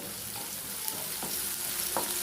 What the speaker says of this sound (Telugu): ఉల్లిపాయలు మంచి గోల్డెన్ కలర్ వచ్చేంత వరకు వేయించుకోవాలండి